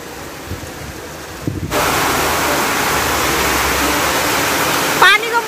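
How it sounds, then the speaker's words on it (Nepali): A sudden heavy monsoon downpour in Pokhara, Nepal, a dense roaring hiss that starts abruptly after a quieter moment and holds steady and loud, with a brief sharper noise near the end. "एकैछिनमा कत्रो ठुलो मुसुलधारे पानी परेको नि साथीहरू,"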